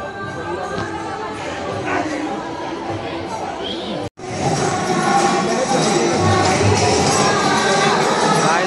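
A dense crowd of visitors at the ISKCON Radha Krishna temple in Kharghar, a loud continuous hubbub of overlapping chatter and distant calls, briefly cutting out before resuming even fuller.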